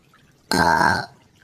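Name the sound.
cartoon crow burping deliberately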